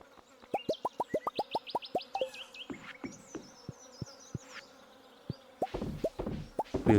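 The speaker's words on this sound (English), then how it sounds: "Really enjoy the sound of the bees" Bees buzz in the Stardew Valley video game, a series of short chirpy insect buzzes in a quick rhythm over soft ambient game sounds, with a few brighter tones and a louder flurry near the end.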